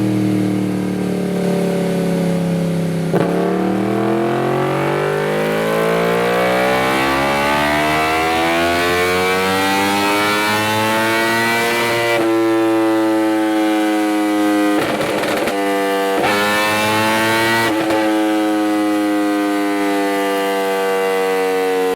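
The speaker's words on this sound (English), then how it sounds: "Take a listen to the glory that is the cross-plane inline 4." A cross-plane inline-four motorcycle engine, a Yamaha R1, revs hard, pitch climbing steadily through the gears, then holds high with brief drops between loud bursts, close and alone.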